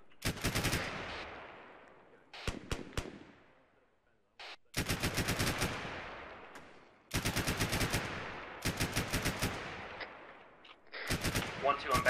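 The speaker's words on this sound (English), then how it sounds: "I bet you 500 people are shooting at me." Bursts of automatic gunfire and sharp single shots from the military shooter game Arma 3, loud and close, arriving in repeated volleys with brief pauses between them.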